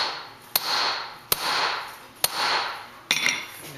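A hammer strikes a punch on mokume gane metal, four sharp metallic hits spaced under a second apart, the last with a slight double bounce, close and clear with each blow ringing briefly.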